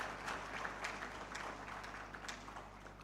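Faint, distant applause from an audience at a surgical conference, a soft continuous patter of many hands lasting a few seconds.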